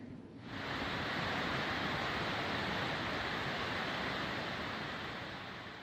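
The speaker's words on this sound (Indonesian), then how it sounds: "Air terjun Batimurung meluap pasca diguyur hujan deras selama beberapa hari terakhir." The Bantimurung waterfall in Maros, flooded and overflowing after days of heavy rain, gives off a steady, dense rushing roar that fades in quickly and holds at an even loudness throughout, with no voices.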